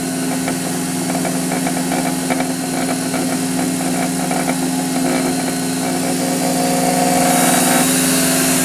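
An EZ Sharp skate sharpener's disc motor spinning at 1800 RPM, a loud, steady, close mechanical whine with a constant hum and fine rapid pulsing throughout, rising slightly near the end.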